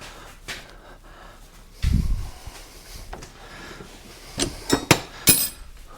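Metal bike tools clink and rattle as a pedal wrench is pulled out among them, with a low rustle partway through and a few sharp, close metallic knocks toward the end.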